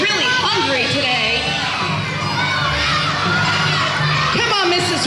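A crowd of children and adults cheers at a school event, loud continuous shouting and whooping with excited voices calling out over the din.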